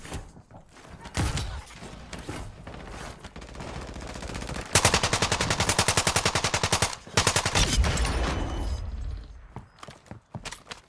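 Shotgun fire in a video game set on the Vondel map, heard as loud, close blasts in quick rhythmic bursts that are broken by short pauses.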